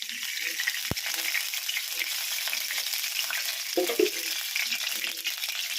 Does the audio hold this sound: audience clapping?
no